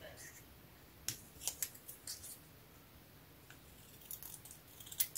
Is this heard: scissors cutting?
yes